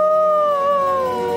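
A ghost in a German-dubbed Fireman Sam cartoon howls in one long, loud, steady wailing tone that bends slightly, sounding much like a dog or seal howl, with no talk over it.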